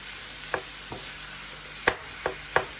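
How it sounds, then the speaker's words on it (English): Garlic frying in a pan for homemade chili gives a soft, steady sizzle, broken by a handful of sharp utensil taps against the pan. No one speaks. "when you're cooking garlic, you have to be real careful because it burns"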